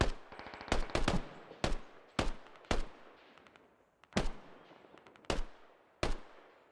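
Gunfire in a shooter game during a tournament final: a quick rattling burst followed by sharp single shots spaced irregularly about a second apart, each loud and crisp, with no voices over them.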